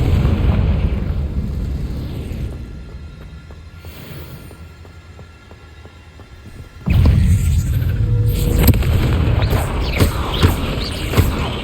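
Fire spell explosion in the video game Hogwarts Legacy: a low booming blast breaks in suddenly partway through and is followed by sustained loud rumbling and crackle, after a quieter humming stretch.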